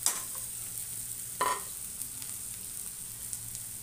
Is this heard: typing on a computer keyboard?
no